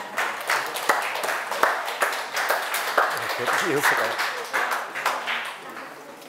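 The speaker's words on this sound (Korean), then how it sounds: "큰 박수를 부탁드립니다." Applause from a lecture-hall audience welcoming a university physiology professor to a public science talk in Daejeon: dense, steady clapping that lasts several seconds, with a few brief voices mixed in partway through.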